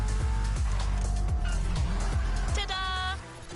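A Toyota Supra A80 Special Edition in a racing video game, its engine revving loud and close and climbing in pitch through quick gear shifts, with a bright electronic tone cutting in near the end.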